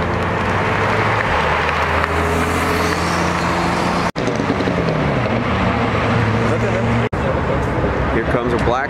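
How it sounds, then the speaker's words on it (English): A Mercedes-AMG Black Series engine droning as the car approaches at a cars and coffee meet, a loud continuous roar that rises and shifts in pitch, with brief gaps and nearby talk. "Here comes a Black Series."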